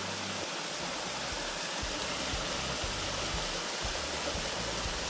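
Water from a waterfall and stream near a tunnel rushes in a constant, loud, broadband roar that stays steady throughout, with no voices.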